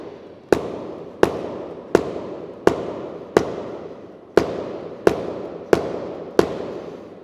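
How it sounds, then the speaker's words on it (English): A baseball is pounded into the pocket of a wet leather glove, nine sharp, loud slaps at a steady pace of roughly one every three quarters of a second, each ringing briefly close by. "So I'm holding the ball there and just pounding it in."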